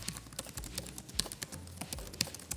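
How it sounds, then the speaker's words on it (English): Rapid, uneven clicking of keys being typed on a Bluetooth tablet keyboard, close up, with irregular pauses between bursts of keystrokes and no voices. "it really gives the real typing experience. Just listen for yourself."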